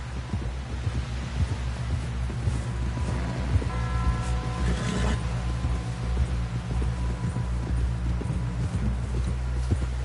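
Horse hooves clip-clop in a steady trotting rhythm over a constant low hum, with no one speaking, in the video game Red Dead Redemption 2.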